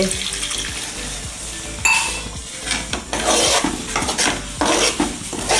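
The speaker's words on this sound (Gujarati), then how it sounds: "હવે આમાં આપણે અડધો ગ્લાસ પાણી એડ કરીશું ચડવા માટે." Half a glass of water poured into a pan of whole okra curry and stirred, a steady splashing and scraping with spoon-on-pot clatter, close and fairly loud, with no talking.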